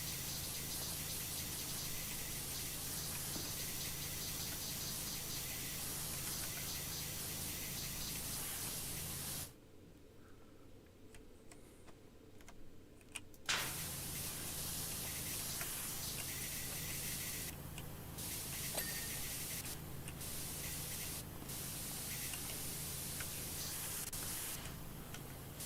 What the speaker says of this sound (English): You can hear the different types of spray sounds that hit as you're working your way,